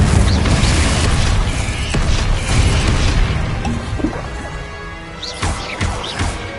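Loud crashes and booms erupt as Confringo spells strike targets in Hogwarts Legacy, with a dense rumbling blast at the start followed by several sharper impacts and debris clatter over the next few seconds.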